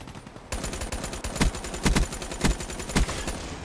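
A steady stream of loud, close automatic gunfire from the video game Black Ops 3, with a few heavier shots punching through the dense rapid fire.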